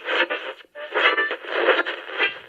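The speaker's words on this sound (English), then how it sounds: "now let's turn the radio dial to Mr. Deep Thoughts himself, Zombie Collector" An old radio dial being turned, giving a brief stretch of band-limited, crackly midrange static and shifting tones with a short dropout, moderately loud and with no voices.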